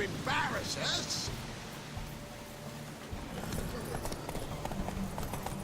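Horse hooves clip-clopping in The Witcher 3, a steady rhythm of hoof falls running beneath game voices and background ambience.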